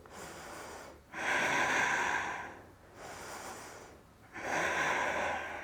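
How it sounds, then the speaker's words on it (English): Slow, deep breaths during a yoga exercise, heard as three long, airy inhales and exhales close to the microphone with short quiet pauses between them. "Breathing."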